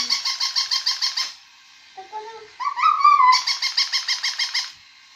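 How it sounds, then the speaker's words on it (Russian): A toy dog lets out rapid rhythmic electronic yapping in two bursts, with a short stretch of squeaky whimpering tones between them, loud and close with no talk. "собачка гавкает и бежит"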